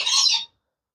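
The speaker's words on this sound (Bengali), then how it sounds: "এত সুন্দর রেনবো লরি" A single burst of shrill, screechy rainbow lorikeet calling at a bird market, loud and close, lasting about half a second before cutting to silence.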